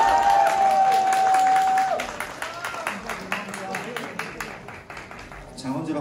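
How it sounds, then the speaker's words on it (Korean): Crowd applause for the TKO winner of a professional boxing match in Seoul follows a brief steady tone, then continues as sustained, fairly loud clapping with scattered individual claps. "큰 박수 부탁드립니다."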